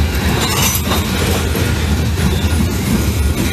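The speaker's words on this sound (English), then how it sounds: "here comes the head end with two SD40 locomotives" Two Wheeling and Lake Erie SD40 diesel locomotives pass close by at the head of a freight train, a loud continuous roar of engines mixed with rolling wheel rumble and faint metallic clinks.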